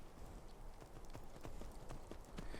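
Horse hooves clip-clop in a steady rhythmic gait while riding in Skyrim, distinct repeated thuds over a soft ambient background.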